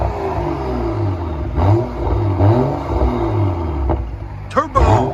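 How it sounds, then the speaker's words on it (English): A BMW 5 Series engine revs in bursts, with a rising whine that may be a turbo spooling up; the rumbling engine note is loud and close throughout. "You can actually hear the turbo spooling up a little bit."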